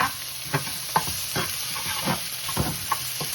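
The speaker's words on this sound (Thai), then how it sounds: "เห็ดลงไปผัดให้หอมนะคะ" Utensils scrape and clack against a wok in irregular strokes while stir-frying mushrooms over a steady sizzling hiss, close by, with no voices.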